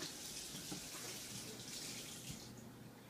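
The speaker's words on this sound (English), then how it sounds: "I should turn off that water while I wait." Water runs steadily from a kitchen tap while a Le Creuset pan heats for braised pork chops, a continuous even hiss at moderate level that stays alone with no talk throughout.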